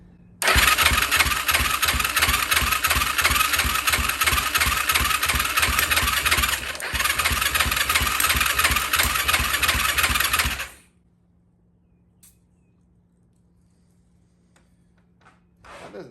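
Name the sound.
Yamaha YFZ450 ATV engine running with low compression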